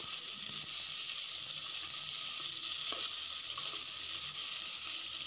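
Chopped eggplant frying in a pan, giving a steady, fairly quiet hiss with a couple of soft stirring scrapes and no voices.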